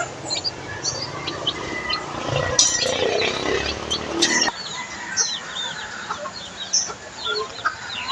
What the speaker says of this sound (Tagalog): Ito yung mga sisiw natin guys.